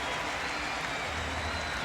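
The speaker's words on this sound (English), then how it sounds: "Gets a nice hand from the stadium crowd" A baseball stadium crowd applauds a batter at a Yankees versus Blue Jays game, a dense, continuous wash of clapping and cheering heard from a distance for a brief moment.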